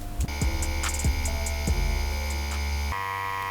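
Tattoo machine running with a 7-round liner needle at 8 volts and a 4.2 millimeter stroke, giving a loud, steady electric buzz with a few soft knocks and a change in tone near the end.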